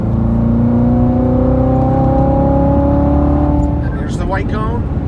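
A car pulls out of a right-hand bend on a mountain road and accelerates, its engine note rising steadily and loudly, with an instructor's voice talking over it throughout.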